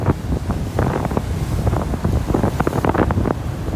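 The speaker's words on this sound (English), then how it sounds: "Some serious big waves out here." Strong wind buffets the microphone in gusty, booming bursts over heavy surf crashing at Johns Pass, a loud, uneven roar with no voices.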